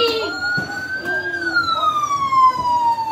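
Toy police car siren wailing up and down in a smooth electronic sweep, close and fairly loud, with faint background voices and light clicks.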